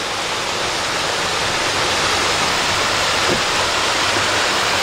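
Steady, full roar of a waterfall on the Mount Katahdin trail in Maine, heard close and continuous with no voices.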